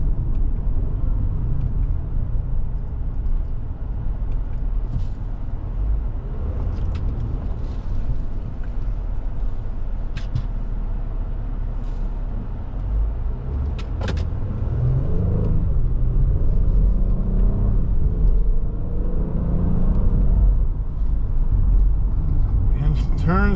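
A 2026 Honda Passport RTL engine drones under steady road rumble while driving, downshifting and pulling away again with a rising rev, as someone talks throughout.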